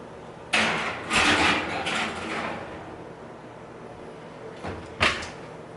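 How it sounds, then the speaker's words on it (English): An oven door is opened and a cake pan is slid inside before the door closes, giving a few loud clattering metallic thumps and scrapes close by, then a final bang. "So now I'm gonna put it in the oven."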